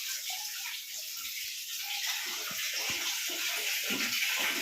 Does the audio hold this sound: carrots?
no